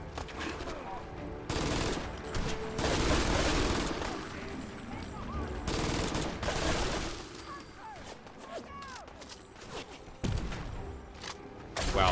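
Gunfire and grenade blasts in the video game Fallout 4 (Far Harbor): dense bursts of automatic fire and loud booming explosions, some close, repeating across the stretch with brief lulls between volleys.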